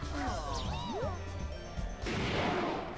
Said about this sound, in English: Mario pops the balloon and gets toasted.